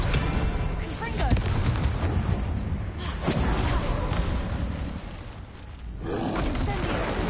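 Confringo explosion spell cast in the Hogwarts Legacy video game, a loud dense booming blast amid continuous battle noise and effects, with a voice calling out spells over it.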